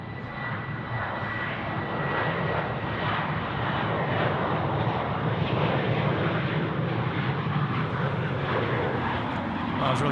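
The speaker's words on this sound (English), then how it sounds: "Qantas 502 now off to Brisbane, rolling on the runway in front of us" Qantas 502, a passenger jet bound for Brisbane, rolls down the runway at Sydney Airport on its takeoff run. A steady, broad engine roar holds for the whole stretch and swells slightly as it goes.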